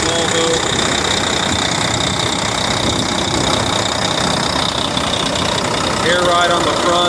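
A 2005 Volvo D13 day cab truck diesel engine idles loudly and up close, a steady rumbling clatter that runs throughout.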